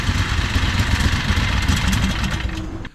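A Harbor Freight 670cc engine idling roughly, giving a loud, close, uneven low chugging that runs steadily before cutting off abruptly at the end.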